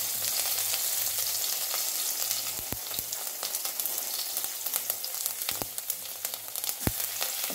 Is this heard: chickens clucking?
no